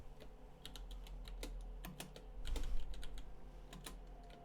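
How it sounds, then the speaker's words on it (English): Rapid keystrokes on a computer keyboard, close and crisp, arriving in quick irregular bursts with a low hum in the background. "this is where we type"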